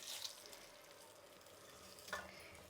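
Tempering being mixed into pulihora in a pan gives a soft, continuous low sizzle with a couple of brief scraping stirs, close but quiet, with no voices.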